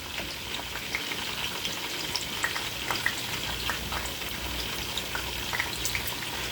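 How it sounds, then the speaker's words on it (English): Turkey sausage and chopped onion browning in a hot frying pan, a steady close sizzle with scattered pops and crackles running throughout, no voices. "And I'm gonna brown my sausage."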